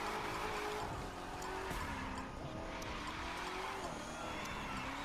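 A Chevrolet drifts on a drift course in The Crew 2, engine roaring continuously under long, pitch-shifting tire squeals that rise and fall through the slide, loud and sustained.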